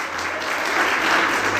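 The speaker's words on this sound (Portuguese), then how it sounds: "Você pode aplaudir o Senhor por isso?" A church congregation applauds during a sermon, a dense, steady burst of many clapping hands filling a large room, sustained at even loudness throughout.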